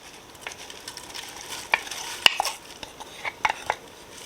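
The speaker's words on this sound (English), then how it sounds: "now I'm going to add in my 2 cups of chopped kale" A spoon stirs chopped kale into a pot of white bean soup, producing faint sizzling with scattered sharp clinks and scrapes of utensil against the pot.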